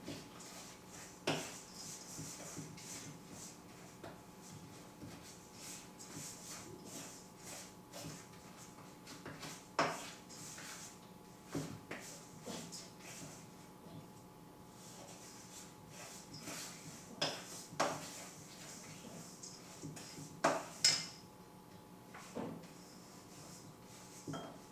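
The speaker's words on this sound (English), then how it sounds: "I've got most of my dry ingredients together. I'm going to go ahead and start mixing it up." Dry crumble ingredients for a wild berry crumble being mixed in a bowl, heard as quiet scraping and rubbing with scattered light clinks and taps of utensil on bowl over about twenty-five seconds, close and soft.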